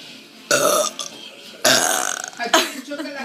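Three close, loud burps in a row, the middle one longest with a rattling, croaking texture, each separated by short pauses.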